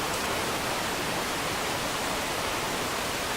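Mountain torrent flowing through a gorge, a dense, steady roar of rushing water, loud and continuous with no other sounds.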